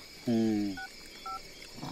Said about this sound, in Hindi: अभी दोस्त को फोन कर रहे हैं